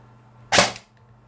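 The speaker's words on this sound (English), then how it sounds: "So I'm gonna go back one and do a single shot." A single sharp shot from an airsoft electric gun whose motor height is being adjusted, one short loud crack with a brief tail, alone against a quiet background.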